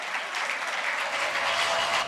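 An audience applauds loudly at a women's empowerment fund event, continuous clapping that swells and holds steady for the whole moment, with no voices over it.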